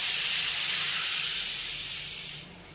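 Water hitting fried mustard spices in a hot pan for sorshe ilish, a loud close hiss and steamy sizzle that holds steady, then fades toward the end.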